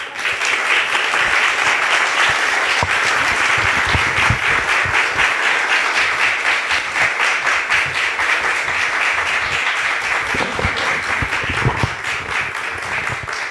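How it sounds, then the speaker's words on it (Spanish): A concert audience gives the youth string orchestra Cuerdas Para Lota a long, loud, steady round of applause, dense clapping sustained without a break and only easing slightly near the end. "solo les pido un fuerte aplauso"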